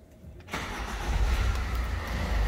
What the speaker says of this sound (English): go ahead and try and start the car